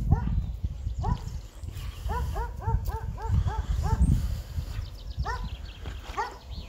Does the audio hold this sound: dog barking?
yes